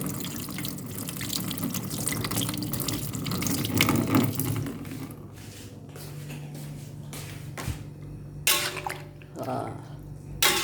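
Dried tamarind slices being rinsed under a running kitchen tap, a steady stream of water splashing in a sink with dripping and washing sounds, strongest in the first half and then broken up by short gushes.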